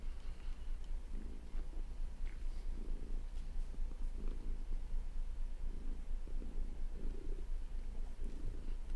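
A cat purrs up close in a soft, steady rhythm of low rumbling pulses, each breath cycle repeating about once a second, with no other sounds around it.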